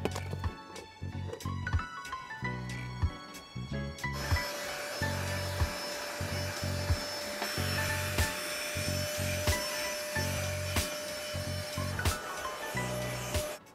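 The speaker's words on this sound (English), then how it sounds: "let's get to vacuuming" A vacuum cleaner works through a car's interior, a continuous whine with knocking and rubbing bursts as the nozzle bumps and drags over surfaces, quieter and choppier at the start, then steadier and louder.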